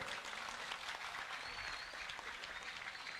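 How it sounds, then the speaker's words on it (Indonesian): Steady, sustained applause from an audience welcoming a guest on stage at a gathering of three public figures, a continuous wash of clapping at moderate distance with no talk over it. "Tepuk tangan buat beliau."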